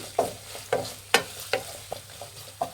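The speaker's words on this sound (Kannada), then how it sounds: "ಶುಂಠಿ ಬೆಳ್ಳುಳ್ಳಿ ಪೇಸ್ಟ್ ಹಸಿ ವಾಸನೆ ಹೋಗೋವರೆಗೂ ಒಂದು ಸ್ವಲ್ಪ ಮೀಡಿಯಮ್ ಫ್ಲೇಮಲ್ಲಿ ಇಟ್ಟು ಫ್ರೈ ಮಾಡಿ" Ginger garlic paste frying in a pan on medium flame for Andhra style chilli chicken, a low sizzle broken by regular scraping stirs of a spatula, about seven distinct strokes.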